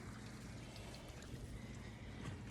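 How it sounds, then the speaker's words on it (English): Water pouring and draining into a basement as a steady, continuous rushing wash, fairly faint and with no talking. "So now all of this water is draining into my basement"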